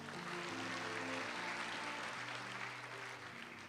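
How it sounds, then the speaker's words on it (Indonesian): Church congregation applauding at a lively service, a steady wash of clapping that stays loud and even throughout, with faint voices and a low tonal hum underneath. "tepuk tangan dulu yang paling meriah lu buat Tuhan"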